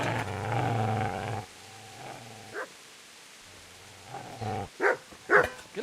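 A dog in the video game Kingdom Come: Deliverance growls low and steady, then lets out several sharp barks at the player. The barks come in close, loud bursts toward the end.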